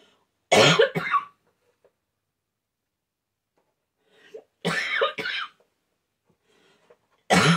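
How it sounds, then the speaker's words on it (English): Three sharp coughs come in short bursts, separated by long quiet gaps, close to the microphone. "Sorry, guys. That's still part of that cough left."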